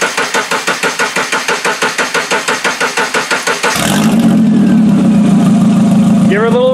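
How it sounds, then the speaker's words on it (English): A car engine with open headers cranks in a steady rhythmic chug for several seconds, then catches and settles into a loud, rough idle close by, with a slight rise in revs near the end. "Give her a little rev. She's pretty quiet for having open headers."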